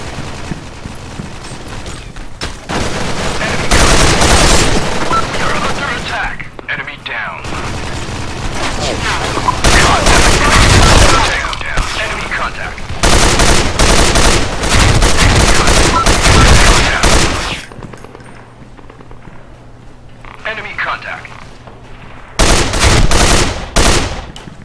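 M249 machine gun fire in the shooter game Soldier Front 2, long loud automatic bursts broken by short pauses and a few quieter gaps, with a voice speaking at points between the volleys.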